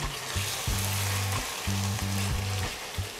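Chicken roast pieces fry in oil in a pan over low heat, giving a steady close sizzle throughout, with low humming tones running beneath it.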